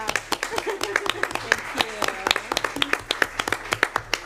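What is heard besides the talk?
audience applause and clapping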